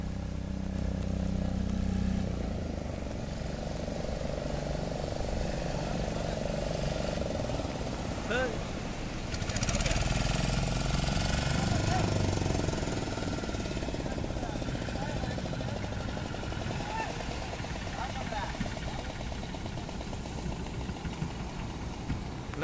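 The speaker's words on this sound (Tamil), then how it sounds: "இப்போ இந்த நேரத்தில் பார்த்திங்கன்னா நம்ம படகு வந்துக்கிட்டு இருக்கு" A fishing boat engine, returning from seer fish netting, drones steadily with a low, rough rumble that swells around the middle as it draws nearer. Outdoor noise is mixed in.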